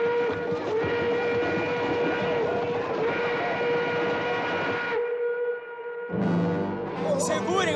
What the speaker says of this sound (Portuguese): Temos que esperar até o trem passar.